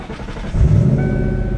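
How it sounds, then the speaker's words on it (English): A car engine fires up after a muffler repair, with a brief cranking rattle giving way to a deeper, steady idle rumble, close by and short. "Let's go start the car up and make sure it doesn't leak."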